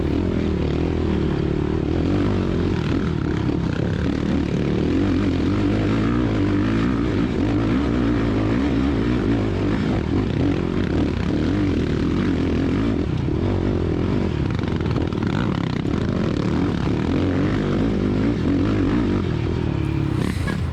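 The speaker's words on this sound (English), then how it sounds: "let you hear the old LTR 450 climb up this hill" Four-wheeler with a 450 engine (LTR 450) laboring up a hill during an off-road hare scramble race, a steady, loud, continuous engine drone with rough low rumble and no talking.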